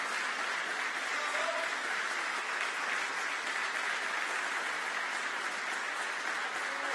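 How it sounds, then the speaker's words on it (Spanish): An audience at an international folk festival in Portugalete applauds a Bolivian dance group, with sustained dense clapping filling the space evenly at moderate level throughout. "¡Fuerte aplauso para el grupo"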